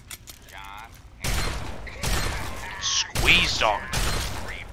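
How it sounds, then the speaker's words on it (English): Gunfire in the video game Fallout 3: several loud bursts of shots crack in quick succession, each followed by ringing and clattering debris, while a voice speaks briefly between them. "Never mind all those gunshots."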